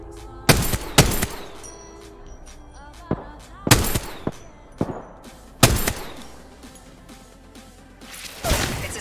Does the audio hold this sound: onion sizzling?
no